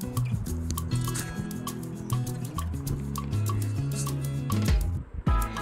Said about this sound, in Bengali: দুধ, গঙ্গা জল, তারপর দই, তা মধু, ঘি, চিনি সমস্ত দিয়ে বাবাকে স্নান করাবো